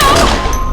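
A gunshot in the video game Life Is Strange, a loud, sharp single blast at full level that rings and decays over under a second, with no speech.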